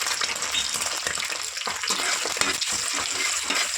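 Beaten eggs seasoned with salt and chili powder fry in hot oil for street-style egg noodles, giving a continuous loud hiss and sizzle with scattered crackles and stirring scrapes, close up, with no voices.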